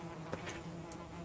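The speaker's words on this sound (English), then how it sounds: "You can check the bees. The bees are happy." Bees at a beehive in the game Valheim make a faint, continuous insect buzz, with a couple of brief, soft clicks and no voices.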